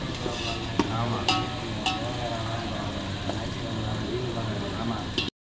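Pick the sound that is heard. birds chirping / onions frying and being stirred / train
onions frying and being stirred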